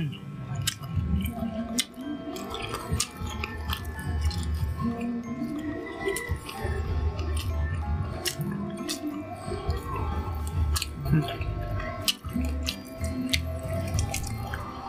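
Close-up wet chewing and biting on roasted pig head lechon skin and meat, steady moist squishing and smacking mouth sounds throughout.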